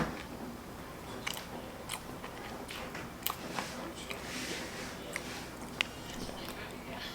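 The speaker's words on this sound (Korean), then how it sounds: "우유랑 먹으니까 너무 맛있다." Bakery bread eaten with milk, with soft close-up chewing and occasional crunchy bites repeating irregularly over a steady low background hiss.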